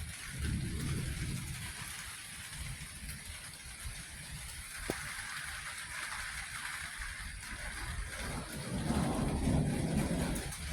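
Steady rain on a garage and yard at night during a thunderstorm, with low rolling thunder swelling near the start and again toward the end, with no voices.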